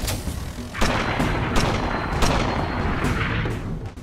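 Heavy gunfire and deep booms in the video game Guns of Icarus fire in rapid bursts, loud and close, with explosive thuds rumbling over a constant noisy background.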